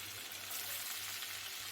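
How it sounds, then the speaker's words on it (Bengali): Paneer pieces frying in butter in a pan, a soft, steady hiss and sizzle heard close for a brief moment with no voices. "অল্প অল্প করে আমি এখন এর মধ্যে পনিরগুলো ভেজে নিচ্ছি।"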